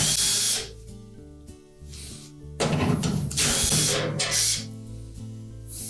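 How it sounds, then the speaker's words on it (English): Power driver whirring on and off, backing out quarter-inch hex head screws from the lower end of a Whirlpool dryer's inlet duct assembly, in several close bursts with a louder stretch midway. "we're next going to remove these 4 screws on the lower end of that inlet duct assembly"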